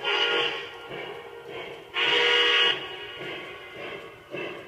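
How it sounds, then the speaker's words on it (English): A simulated locomotive whistle in the High Rail train simulator app sounds in several blasts, one long loud blast in the middle flanked by shorter, softer ones, clear and alone. "Blow the whistle."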